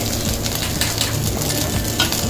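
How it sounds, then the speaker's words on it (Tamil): Onions sizzle steadily in a hot pan, a constant crackling fry with occasional soft scrapes of stirring, while cooking dried-fish podimas. "அதிலே இப்போ நம்ம வெங்காயத்தை போட்டு வதக்கணும்"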